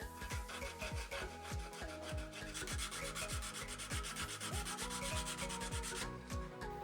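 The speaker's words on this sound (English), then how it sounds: "I'm gonna sand this up to a high grit to get rid of the marks left by the metal file." Acrylic shuriken edge being sanded to a fine finish after metal filing, giving a steady rhythmic rubbing rasp with quick repeated back-and-forth strokes, close and continuous with no talking.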